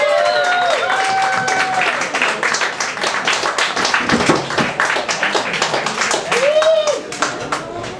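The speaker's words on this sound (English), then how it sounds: "Let's have a big round of applause for Kid Krash" Audience applause and cheering for a poet at an open mic night, dense clapping throughout, with voices and whoops rising over it and a brief talk-like tone near the start.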